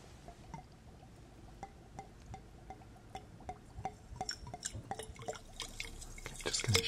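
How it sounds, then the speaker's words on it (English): Distilled water trickles into a potion in a chemist's ASMR roleplay. Sparse, close, quiet drips start it off, then the drops grow denser and build into a brief pour near the end. "Now I'm just going to pour in a little bit of this distilled water."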